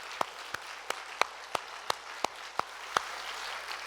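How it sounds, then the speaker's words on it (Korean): A church congregation at a Sunday worship service claps together in a slow, even rhythm: about nine crisp, evenly spaced claps, fairly soft and with no voices. "우리 하나님 앞에 감사의 영광의 박수를 돌려드립시다"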